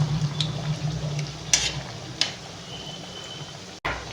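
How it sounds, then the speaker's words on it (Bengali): Singaras frying in hand-warm oil over a low flame, a steady soft sizzle close by with a few sharp pops and clinks. "একদম হাত ছোঁয়ার মতন তেলেতে সিঙ্গারাগুলো ভেজে নিতে হবে"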